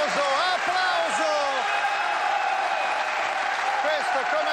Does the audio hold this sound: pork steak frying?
no